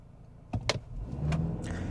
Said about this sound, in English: This time I won't brake torque it, we'll just floor it.